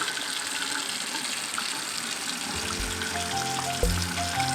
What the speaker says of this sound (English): right now we have to wash our hands